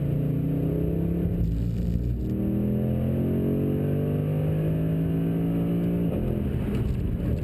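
A 2013 Mercedes-Benz C63 AMG Coupe Black Series V8 drives hard on a race track, its engine loud and close with a steady roaring drone that climbs in pitch through the gears, with brief shifts in between.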